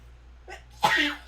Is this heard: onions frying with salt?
no